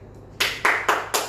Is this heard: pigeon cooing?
no